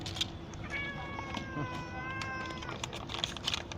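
A thin, very skinny mother cat meows insistently while waiting to be fed, a drawn-out plaintive cry standing out over a steady low background hum, with faint soft clicks around it.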